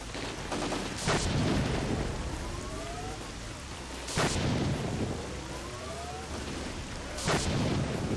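Gunfire in S.T.A.L.K.E.R.: Clear Sky, three loud single shots spaced about three seconds apart over a constant rain-like ambient wash, each shot followed by a short ringing tail.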